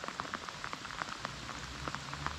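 Steady light rain pattering on a surface during ice fishing, with scattered close droplet taps over a soft continuous hiss.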